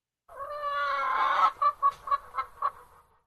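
A chicken gives a sustained, drawn-out squawking call, then five short, sharp clucks in a loose rhythm, close and clear against silence.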